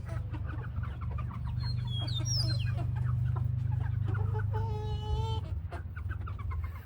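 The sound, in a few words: chickens clucking while eating overgrown squash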